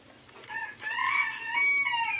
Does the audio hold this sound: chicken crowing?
yes